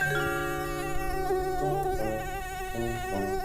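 Cartoon mosquito buzzing in a continuous high whine, near and steady, with shifting tonal layers throughout and no speech.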